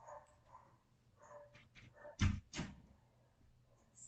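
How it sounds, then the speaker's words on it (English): A pet dog gives two loud barks in the middle of the clip, with softer whimpers and household noise before and after, early in the morning at home. "There's that lovely dog of mine."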